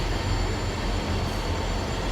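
Class 158 diesel train unit 158881 arriving at a station on a line toward Romsey, a loud steady rumble and engine drone with rail noise, close and continuous.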